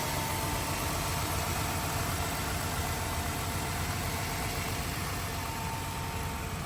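A 2018 Ford Transit 350HD box truck with a 3.7-liter V6 gasoline engine runs at idle, a steady, even low hum with a constant hiss, unbroken and without talk.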